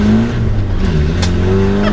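A Land Rover Defender 90 with a 300 series engine accelerates loudly from close inside the cabin, its engine tone rising and shifting across gears in a continuous, throaty drone that holds for about two seconds, with no talking.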